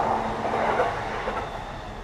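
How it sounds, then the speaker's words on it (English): A Chuo Line train running along the tracks in Tokyo between Shinjuku and Nakano, a continuous loud rumble and clatter of wheels on rail heard close by, steady throughout. "we're next to the Chuo line train tracks"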